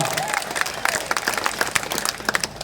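An audience at an election campaign rally applauds in a burst of many overlapping hand claps, with a dense, uneven crackle and some crowd noise underneath.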